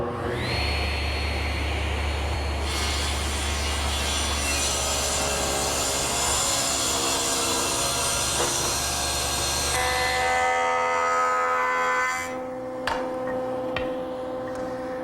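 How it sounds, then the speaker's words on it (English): A jointer planes the tapered saw cut on an oak table leg, a loud continuous whirring cut that holds for about ten seconds, then the cutter spins down with a fading whine and a few light knocks. "the joiner does a nice job smoothing up the saw cut and removing any burn marks left by tapering"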